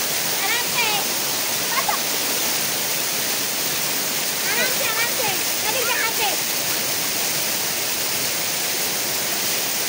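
Havelock waterfall in the Andamans pours in a steady, broadband rush that fills the whole clip, with bursts of people talking and calling nearby over the constant roar of falling water.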